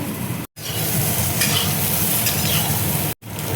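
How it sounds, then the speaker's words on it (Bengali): Soybean chunks frying in a pan of hot oil give a loud, continuous close-up sizzle that runs steadily throughout, broken by two very brief silent gaps. "সোয়াবিন দেখো ভাজা হয়ে গেছে,"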